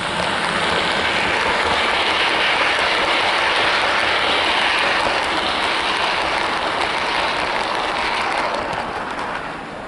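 A Heljan model Metropolitan Bo-Bo electric locomotive hauls six coaches on a model railway, making a continuous close whirring and rumbling of wheels on track with no talking.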